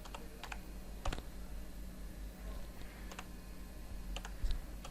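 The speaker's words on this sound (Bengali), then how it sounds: "সার্চ বারে লিখব" Computer keyboard typing a web address into a browser search bar, several quick bursts of soft key clicks separated by short pauses, close and quiet with no talking.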